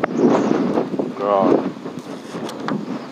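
Wind buffets the microphone during a shoreline fishing outing, a rough, steady rumble that goes on under a voice.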